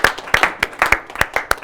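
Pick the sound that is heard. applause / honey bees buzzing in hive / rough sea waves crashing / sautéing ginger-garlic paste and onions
applause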